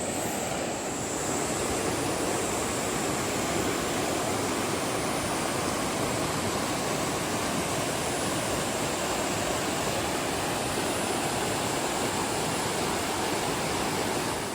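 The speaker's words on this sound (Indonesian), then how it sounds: "Jadi kita ini penginapannya sampingnya itu adalah sungai." A river rushes past right beside a lodging, a dense, constant roar of flowing water that stays loud and even throughout with no voices.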